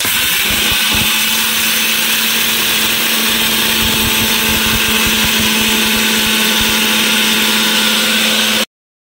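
A kitchen mixer grinder whirs continuously at full speed while grinding batter, a loud, steady motor drone with a gritty churning texture that cuts off abruptly at the end.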